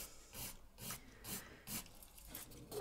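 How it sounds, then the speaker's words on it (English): Acrylic nails being filed down by hand, a steady back-and-forth rasping in regular strokes about every half second, close and clear with no talking. "Don't hesitate to really thin the nail and remove a lot of acrylic with the filing process"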